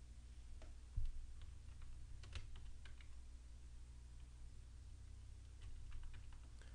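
Soft, irregular computer keyboard clicks typing a name and hitting enter, a few quick keystrokes spread over several seconds, faint against a steady low background hum.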